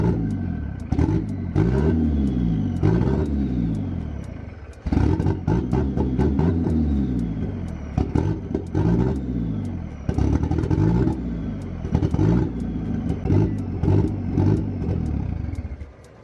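A Mitsubishi Eclipse engine cranking repeatedly after a fuel filter replacement, rhythmic starter whirring with clattering, stumbling catches and sputtering revs in several attempts, loud and close, without speech.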